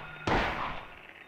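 A single sharp gunshot fired at a bug in the video game Silent Hill, an abrupt loud crack followed by a short, fading reverberant tail.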